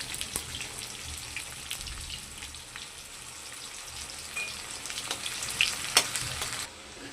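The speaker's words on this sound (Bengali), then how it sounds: "তারপর দেবো পেঁয়াজগুলো, পেঁয়াজ কুচি" Chopped onions frying in hot oil with bay leaf, green chilli and whole cumin, a soft continuous sizzle with occasional crackles and spoon clicks, fairly quiet and close.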